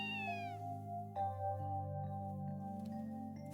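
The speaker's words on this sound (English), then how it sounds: "There's the cat, huh?" A cat meows in the video game Trails from Zero, a few drawn-out, plaintive calls heard alone over a soft, steady musical backdrop.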